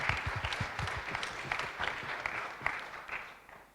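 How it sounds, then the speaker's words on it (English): Audience applause for conference presenters at a health-data standards meeting, a steady wash of clapping from a sizable crowd that holds for several seconds, fairly close and even, with no talking over it. "Another round of applause for all of our presenters."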